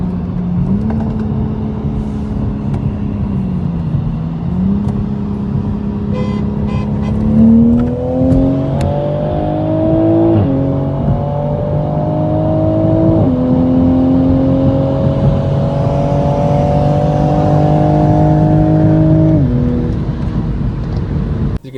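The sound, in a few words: Volkswagen MK7 GTI accelerating hard during a race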